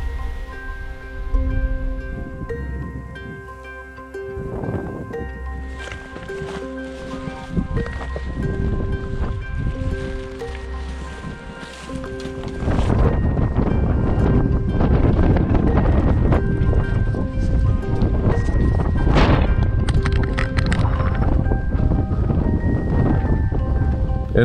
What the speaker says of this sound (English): the wind is just screaming